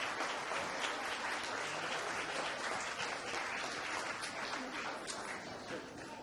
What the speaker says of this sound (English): would you give all the award recipients a round of applause?